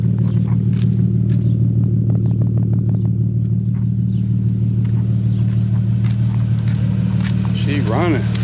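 An Infiniti G37, long neglected, idles just after starting with a steady low rumble close by, while someone talks and faint clicks and a brief chirp sound over the drone.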